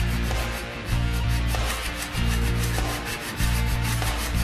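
Guitar frets being leveled with a Katana fret-leveling beam, a close, steady abrasive rubbing in repeated back-and-forth strokes with brief pauses between passes.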